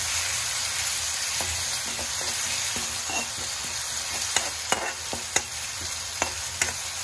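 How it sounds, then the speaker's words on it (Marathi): Finely chopped green chilli and garlic sizzle steadily as they are sautéed in a pan, with occasional sharp pops and light spatula scrapes, close and continuous without talk. "आपल्याला यामध्ये बारीक केलेली हिरवी मिरची आणि लसूण टाकायचं आहे। अशा प्रकारे मी टाकून घेत आहे आणि ते चांगलं परतून घ्यायचं आहे आपल्याला।"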